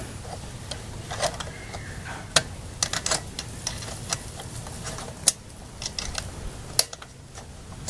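A crescent wrench is snugged down on a nut while assembling a RowBike, giving a run of sharp metallic clicks and ticks at irregular intervals against a low background rumble, close and fairly quiet.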